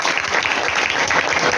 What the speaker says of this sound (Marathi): त्यांनी सगळ्यांनी जोरात टाळ्या वाजवा.